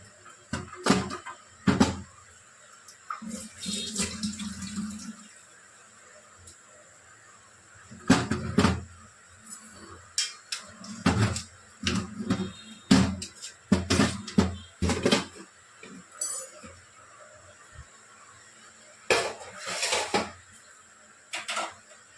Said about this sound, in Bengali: এবার ওভেনের ঢাকনাটা খুলবো।